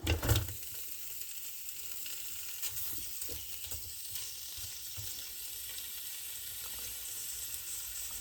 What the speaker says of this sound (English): I'm gonna put it over here in my multi-cooker. I'm gonna saute it first, get some color on it.